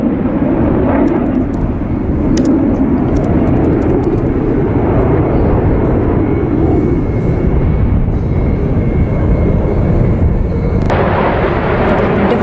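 Military aircraft flying in formation at the Aero India 2021 air show in Bengaluru produce a loud, continuous jet roar that stays heavy and unbroken throughout.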